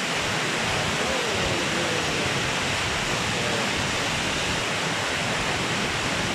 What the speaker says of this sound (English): Mumuni sa akong likod ang the famous Aliwagwag Falls.